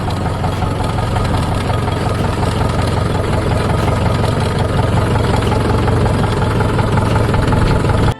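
A tractor engine idles loudly and steadily nearby, a continuous low rumbling chug with no talking.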